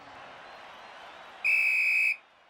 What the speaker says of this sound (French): Et c'est le coup de sifflet final.